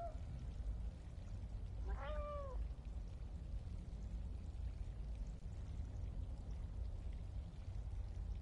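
A single short cat meow rises and falls around the two-second mark, faint against a steady hiss of background noise, then nothing but hiss.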